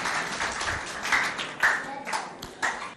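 Audience applause at a school performance event, scattered claps rising and falling over a busy crowd noise with some voices mixed in.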